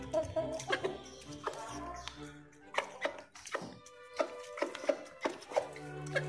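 Chickens kept at home cluck softly in a coop, with scattered irregular calls over a quiet background. A person talks at times.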